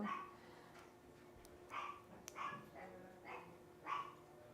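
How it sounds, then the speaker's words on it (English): A dog barks several times in the distance, faint, short yips spaced irregularly against a quiet background hum. "Little doggy dog is freaking out."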